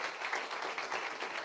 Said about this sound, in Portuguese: Dá outro aplauso aí, em nome de Jesus.